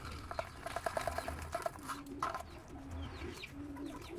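Pigeons cooing and chickens clucking in a brief cluster of calls, then softer scattered clucks and chatter from a flock close by at a pigeon loft.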